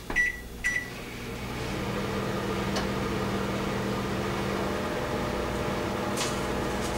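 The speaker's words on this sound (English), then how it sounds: "I'm gonna put it in the microwave another minute." A microwave oven runs with a steady close hum and whir, heating a microwavable plate; a couple of brief clicks and knocks open it, and a faint beep-like tick comes near the end.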